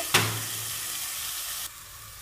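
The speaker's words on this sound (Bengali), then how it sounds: "চালটাকে আমি খুব ভালো করে ভেজে নেব" Kalojira polao rice sizzles in a pan with lightly fried lentils for bhuna khichuri. A sharp hiss bursts up as stirring begins, holds as a steady close frying noise, then eases suddenly.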